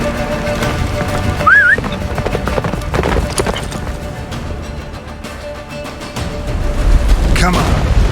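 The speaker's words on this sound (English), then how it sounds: "Faster, Roach. Don't stop" A horse gallops in The Witcher 3, its clip-clop hoofbeats running steadily under game music, effects and a passing whinny, with a heavier surge near the end.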